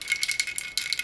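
A small lint roller being handled gives off a loud, close rattle in quick repeated bursts, with no talking over it.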